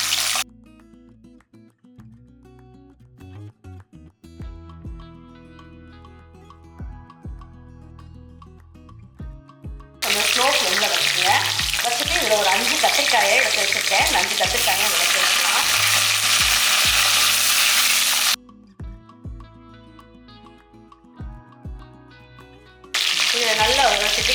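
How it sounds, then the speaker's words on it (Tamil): Shallots and garlic frying in hot oil for a dried fish curry, a broad sizzling hiss that comes in loud stretches and drops away between, with faint background hum and occasional clinks. "நல்லா ஒரு கைப்பிடி அளவுக்கு சின்ன வெங்காயம் சேர்த்துக்குவோம்"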